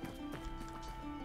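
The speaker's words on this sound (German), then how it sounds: "Ich hab das Pferd gehört" Quick, light hoof clip-clops of a horse in the video game Tavern Manager sound briefly against a steady low hum, with game-like tonal background.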